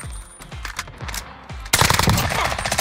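Sniper rifle fire in the shooter video game Call of Duty Warzone: a series of sharp, spaced shots, then a sudden louder burst of dense gunfire and impacts.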